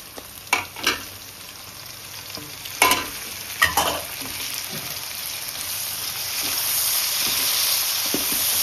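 Chopped tomatoes hitting hot oil for a spicy fish curry and being stirred, with sharp scraping spoon strokes over a loud, steady sizzle that swells toward the end; no speech.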